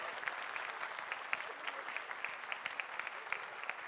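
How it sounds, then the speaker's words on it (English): An audience at a school celebration applauds student sophomores on stage, a moderate, steady patter of many hands with some sharper individual claps standing out, lasting a few seconds without speech. "A round of applause."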